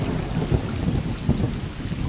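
Steady rain hisses in the video game Stray, with low thunder rumbling through it, dense and fairly loud with no talk.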